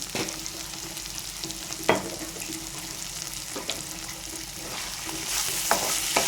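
Sliced ivy gourd fries with turmeric in a pan over low heat, giving a steady soft sizzle broken by a few sharp scraping strokes of stirring, with no talking.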